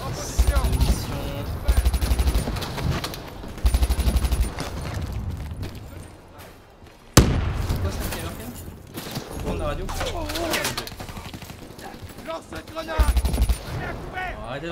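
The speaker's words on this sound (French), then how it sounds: "c'est des grenades" Grenade explosions in Call of Duty: Black Ops 3 gameplay, one sharp explosion burst midway among bursts of gunfire, with someone talking over the action throughout.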